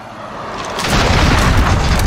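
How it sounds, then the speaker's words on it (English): A cruise missile launch and explosion in Call of Duty Modern Warfare, team deathmatch, rise from quiet into a loud, sustained rumbling boom that rolls on for over a second with crackling debris on top. "Allied cruise missile away."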